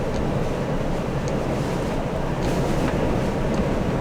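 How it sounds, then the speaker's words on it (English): Strong storm wind roars steadily and loudly around a moving vehicle in heavy rain on a UK road at high elevation, a dense continuous rush with no talking. "But yeah, wind."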